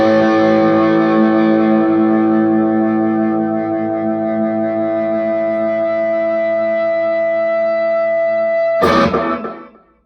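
A heavily distorted electric guitar played through an EVH 5150 III high-gain amp sustains one thick, ringing chord for several seconds. A brief scraping hit follows and the sound cuts to silence.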